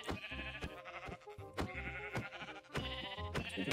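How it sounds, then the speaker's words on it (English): Sheep in the Minecraft video game bleat several times in quick succession, loud and close, with harmonic calls broken by short gaps and no talking over them. "Hey, sheep."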